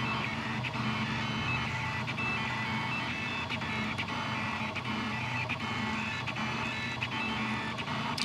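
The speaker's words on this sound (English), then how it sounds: "we can hear the stepper music clearly on stream" A 3D printer's stepper motors run steadily indoors, with a faint, continuous tonal whine and hum broken by periodic short clicks as the moves change.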